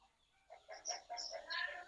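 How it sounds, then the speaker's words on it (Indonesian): A hen clucks after laying an egg, a short run of rising, faint clucks heard through a microphone during an online gathering. "Itu suara ayam yang bertelur itu."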